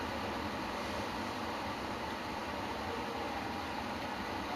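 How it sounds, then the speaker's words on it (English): Steady rain falls in the background, a constant broadband hiss with no distinct drops, continuous and moderately loud throughout. "once again, I'm sorry for the rain in the background."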